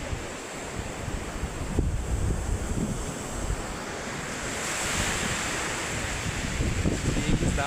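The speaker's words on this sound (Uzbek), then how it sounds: "Dengiz dahshat." Sea waves roll and wash against the shore under gusting wind, a loud continuous roar of surf with wind buffeting close to the microphone, no talking.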